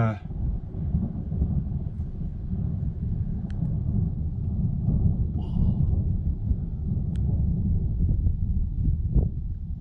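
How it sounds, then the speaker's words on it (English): A long, low rumble of thunder rolls on for several seconds outdoors amid wind, loud and sustained with a few faint crackles; no speech over it. "whoa, that was a long one. Well done, thunder."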